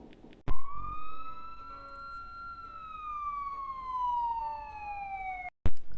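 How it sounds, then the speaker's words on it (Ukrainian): A police siren wails in one long, slowly rising and falling tone, loud and close, starting abruptly and cutting off after about five seconds. "Так, друзі, це поліція."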